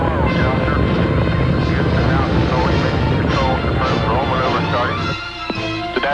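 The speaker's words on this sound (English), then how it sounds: "Liftoff of STS-7 and America's first woman astronaut. And the shuttle has cleared the tower." Space Shuttle STS-7 lifting off, a loud continuous rocket roar and rumble that fills the whole span and eases near the end, with a commentator's voice over it.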